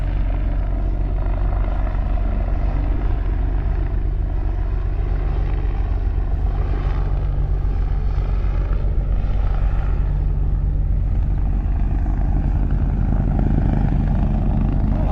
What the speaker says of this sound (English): I wonder where this helicopter is going.